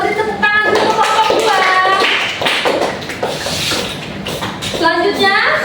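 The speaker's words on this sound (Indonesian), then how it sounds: "kita beri tepuk tangan dulu untuk kelompok" Classmates clap for a group in a university microteaching lesson; steady clapping runs through the whole clip, mixed with children's or students' voices talking and calling out over it.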